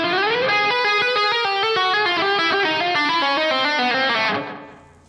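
Distorted electric guitar plays a slow, continuous lick of hammer-ons and pull-offs with the left-hand index finger, mimicking a whammy-bar dip, notes flowing legato before ringing out and fading.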